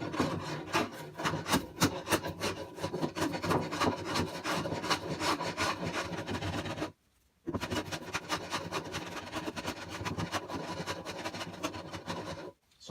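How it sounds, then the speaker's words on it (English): An old hand plane with its blade set very low skims a wooden surface in steady, rapid rasping strokes up close, with one short pause partway through before the planing resumes. "I'm just going to simply use my old hand plane to bring that down to match the rest of it."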